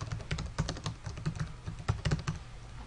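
Rapid computer keyboard typing during bookkeeping data entry in a spreadsheet, with irregular bursts of clicky keystrokes close up and a few sharper key hits, no voices.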